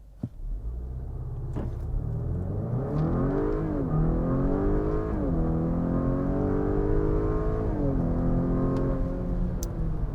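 A 2022 Acura RDX A-Spec engine roars hard from a standstill, climbing through several gear shifts, loud and steady throughout, with no talking.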